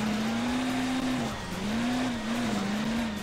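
A racing car engine from the Hill Climb Racing 2 mobile game drones steadily, its pitch rising and falling in smooth waves over a hissy, noisy background, with no talk.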